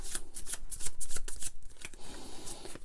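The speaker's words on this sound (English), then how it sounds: "I'm going to give that a shuffle." An encounter card deck being shuffled for the board game Aftermath, close and crisp with a quick series of riffling, slapping card sounds across a few seconds.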